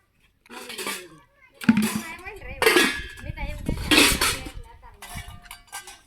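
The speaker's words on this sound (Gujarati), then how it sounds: "આ બધા વાસણમાંથી તો હું વાસણ ધોઈશ" Dishes, pots and pans clink and clang in bursts at close range as they are washed, with short pauses between the clatters and faint speech in places.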